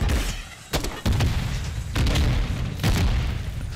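JAK Thumper grenade launcher firing in a video game: several heavy booming launches and blasts in quick succession, loud and close, layered over a continuous rumbling wash of game noise.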